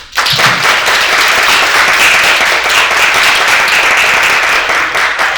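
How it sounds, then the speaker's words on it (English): A graduation audience breaks into another round of loud, dense applause, many hands clapping continuously and close for several seconds with no speech. "We can give Cohort 5 another round of applause."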